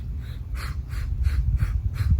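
Rhythmic breathing during the Pilates hundred exercise, a series of short regular breath pulses over a low rumbling background, close and moderately loud, with no talking.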